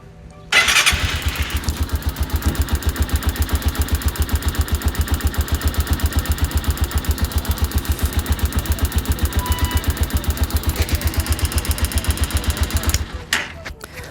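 A kick-started motorcycle engine with a battery-operated CDI conversion catches after a brief start and settles into a steady, rapid thumping idle, loud and close, running alone before cutting off near the end.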